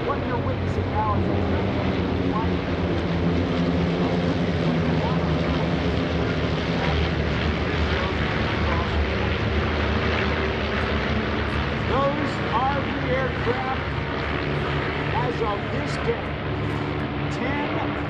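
Eight-ship formation of Van's RV light aircraft flying overhead at the EAA AirVenture airshow in Oshkosh, a steady broad engine drone that holds throughout, partly under a loud announcer's voice on the public address.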